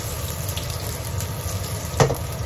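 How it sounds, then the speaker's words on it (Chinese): The nori side of a vegetarian eel frying in a wok, a steady close sizzle with one brief louder clack near the end. "咁就煎咗紫菜嗰边先"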